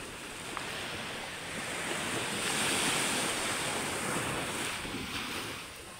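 A river current flows in a steady, broad rushing wash, swelling slightly in the middle and easing toward the end, with a breezy hiss over it and no voices.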